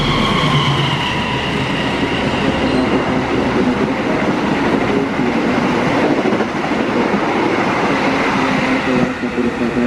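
KA Manahan passenger train rolling past at close range, a loud continuous rumble of wheels and carriages with rhythmic rail clatter and a steady mechanical drone throughout.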